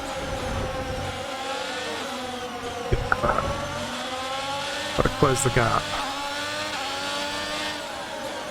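F1 race cars in a VR racing game whine at high revs, with the engine pitch rising and falling through gear shifts and brief bumps, while someone speaks briefly over the steady engine drone.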